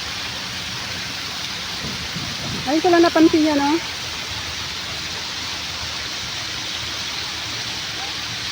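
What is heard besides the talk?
water of a fountain like falls in Khalifa park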